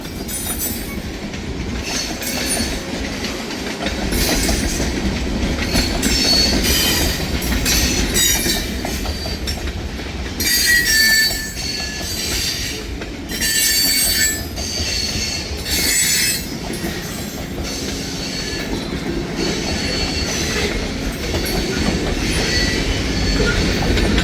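A long, heavy freight train hauled by three locomotives rolls past close by, its wheels squealing loudly and continuously over a rumbling, clattering bed of railcar noise that never lets up.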